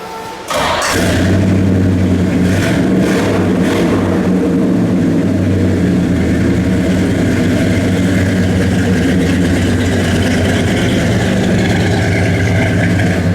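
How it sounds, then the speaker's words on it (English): A 1970 Chevrolet Chevelle V8 fires up and settles into a loud, steady idle, a deep rumbling note that holds evenly for over ten seconds with no voices over it. "That's just how a 70s Chevelle should sound."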